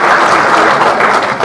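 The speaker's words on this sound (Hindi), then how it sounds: "तालियां बजाओ।" Audience applause at a political rally with a Haryana minister addressing village heads, a dense, steady wash of clapping from a large crowd, loud and continuous for the whole moment with no talk over it.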